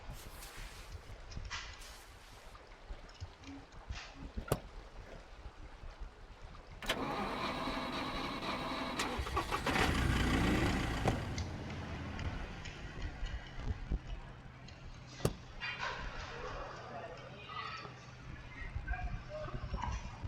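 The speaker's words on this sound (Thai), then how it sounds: "รถกระบะในตำนาน" A pickup truck engine in the survival game SCUM starts and revs loudly for a few seconds, then settles to a low idle, with someone talking over it.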